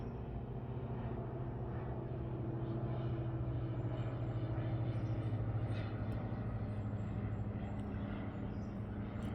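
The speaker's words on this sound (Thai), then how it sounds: "เครื่องบินบินผ่านเนาะค่ะ" A distant airplane's engine drones as a low, steady rumble with faint tonal hums, heard quietly over a calm morning garden with soft outdoor background noise.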